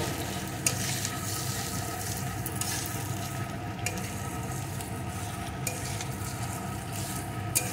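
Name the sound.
taro being stir-fried with spices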